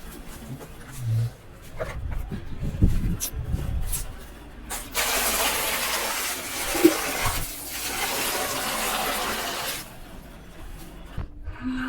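Water pours steadily for several seconds with a broad rushing splash, preceded by some clattering and handling noises, no voices.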